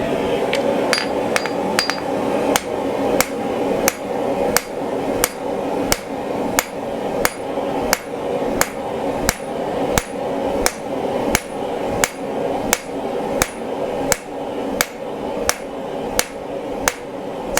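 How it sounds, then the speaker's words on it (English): A rounding hammer strikes hot steel while a decorative wall sconce is forged, a steady, evenly spaced series of loud ringing blows, close and alone, about one per second. "So I'm trying to stay kind of in the center here as I forge this thing out."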